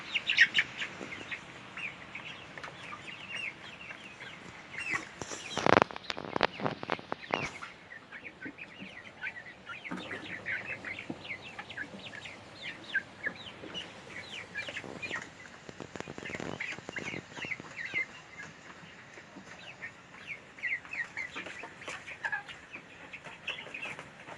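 Young chicks of egg-laying hens, raised for sale, chirp in a steady stream of thin, high peeps mixed with clucks from nearby fowl, close by and continuing throughout, with a brief louder rustle early on.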